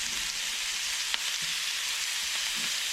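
Foraged seafood pasta ingredients fry in rendered bacon fat, a dense, even sizzle close to the pan with a single small click partway through.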